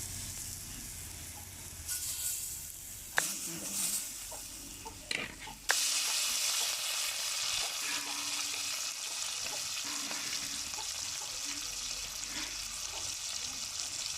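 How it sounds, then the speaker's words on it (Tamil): Fish frying on a hot dosa griddle over an outdoor wood stove gives a steady, fairly loud sizzle throughout, with a few sharp clinks and scrapes early on before the frying settles into a continuous hiss. "இப்போ நம்ம வந்து மீனை வறுத்துக்கலாம்"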